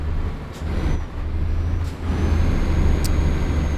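Simulated heavy truck straining in Euro Truck Simulator 2, a steady low engine drone throughout with a brief air-brake hiss, loud and close with no talking.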